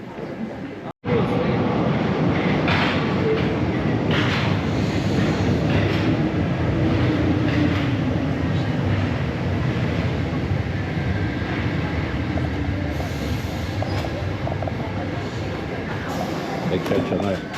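An old Paris metro train on an old branch line runs with a loud, continuous rumble and roar after a brief silent gap, with faint rhythmic rail clatter and some voices underneath.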